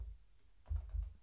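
A few quick keystrokes tap on a computer keyboard while coding in an editor, soft and close in a quiet room.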